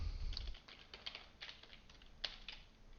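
Quick, light key clicks from a computer keyboard, tapped in short irregular bursts with small pauses, near and fairly quiet with no voice over them.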